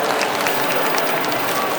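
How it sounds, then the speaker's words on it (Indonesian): Applause from an audience at a phone launch fills the moment, a dense, continuous patter of clapping with no break. "Beri tepuk tangan untuk begini teman-teman"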